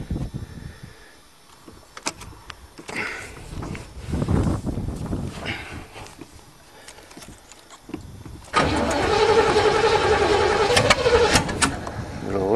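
Engine of an old Chevrolet with a dirty carburetor and no back pressure, running on choke, starting rough and uneven, then rising to a loud, steady roar close by partway through.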